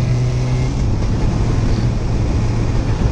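Steady engine drone and rushing road and wind noise while riding a motorcycle on the road, loud, continuous and close to the microphone, with no talking.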